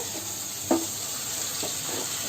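Tomatoes fry in a pan for a pumpkin curry, giving a steady, even hiss of sizzling oil with a single soft knock of a spoon stirring partway through.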